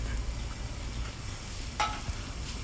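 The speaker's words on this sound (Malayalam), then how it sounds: "ഞാൻ എല്ലോട് കൂടി അര കിലോ മട്ടനാണ് ഇട്ട് കൊടുക്കുന്നത്" Steady crackling sizzle of bone-in mutton pieces in a hot pan, with a brief scraping stir partway through and no talking.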